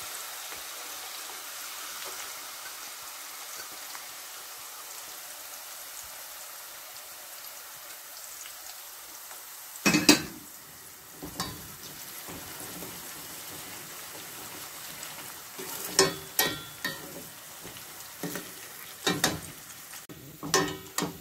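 Onions deep frying in hot oil make a soft, constant bubbling sizzle, joined after a quiet stretch by sharper clatters and scraping bursts of stirring, with no voices.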